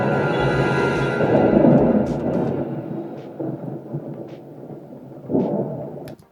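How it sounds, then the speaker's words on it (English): A deep thunderclap swells into a long rolling rumble in a Star Wars film scene, loud at first, then fading into softer distant rumbles with a brief renewed burst near the end. "right up until the thunderclap"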